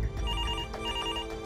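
A telephone rings with a loud, steady electronic ringtone that continues throughout.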